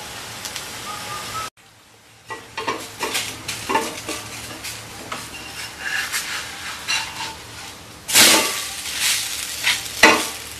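A vegetable omelette fries in a pan with a low sizzle and scattered scraping and clinking of a utensil against the pan. Everything falls silent for a moment near the start, then a louder hissing burst follows later.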